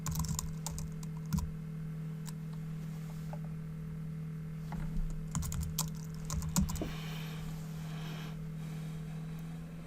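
Quiet keystrokes on a computer keyboard come in short irregular bursts over a steady low electrical hum, with a few slightly louder taps in between and no talking.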